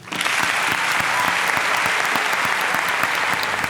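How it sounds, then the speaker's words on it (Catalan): Graduation crowd for vocational training students claps in a loud, sustained ovation, many hands at once, with a faint rhythmic pulse of individual claps standing out through the dense wash. "Comencem celebrant-ho amb un aplaudiment per a tots i totes que acabeu cicles formatius."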